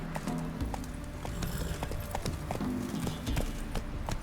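Roach, the horse in The Witcher 3: Wild Hunt, clip-clops along in a steady rhythm of hoof strikes, close and clear over a low ambient game bed, with a brief whinny-like hint and no talk.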